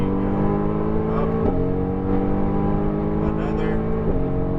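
A Mercedes-AMG GT R race car accelerates on a racetrack with a steady, loud engine drone that dips briefly at two gear changes, while a voice talks over it.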